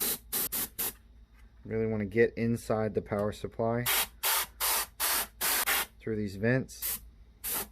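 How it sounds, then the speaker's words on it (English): Canned air blasts into an opened PS4 near its power supply vents in short hissing bursts, about a dozen close, loud sprays. Someone talks in the gap between bursts. "So now I'm just going to spray all this off."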